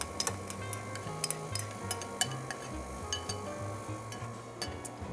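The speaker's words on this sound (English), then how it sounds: "Mix that until it's incorporated" Banana mixture gets stirred into banana bread batter in a bowl, a steady rhythm of close utensil scrapes and taps against the bowl, with a low background hum and no speech.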